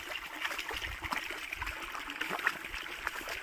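Water is poured over freshly uprooted crop roots in an organic farm field to wash them, a steady trickling, splashing flow that runs continuously at moderate volume.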